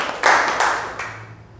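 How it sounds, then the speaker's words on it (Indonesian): A seventh-grade class at SMP Negeri 2 Sukamantri gives a short burst of clapping that swells in two quick waves and then fades out. "tepuk tangan dulu untuk kita semua."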